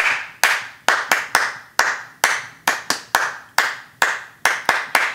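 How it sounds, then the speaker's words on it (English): Sharp hand claps ring out in quick sets, crisp and close, about a dozen over a few seconds, each with a short room echo, clapped along to a children's song about a farmer's dog. "Five claps."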